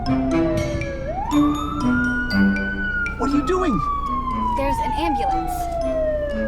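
An ambulance siren wails on a divided highway, its pitch sweeping slowly and then falling as it passes, heard from inside a car over road rumble, with voices talking along with it.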